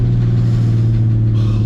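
A van fitted with a Golf R engine roars loud and close in a sustained deep rumble, revving steadily on its first drive.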